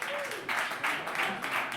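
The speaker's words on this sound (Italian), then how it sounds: "Bisogna fare un applauso a Eugenio Rodondi." Studio audience applause on an Italian variety show, bursts of clapping coming in waves under a voice.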